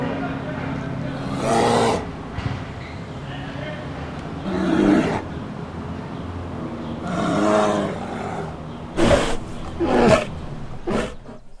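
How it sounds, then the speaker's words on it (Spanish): A bear roars in a forest with a series of loud, rough bursts spaced out over several seconds, close by and sitting over a steady background hiss. "Ahí hay un oso, el depredador más feroz del bosque."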